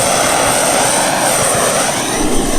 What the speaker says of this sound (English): we'll take a torch.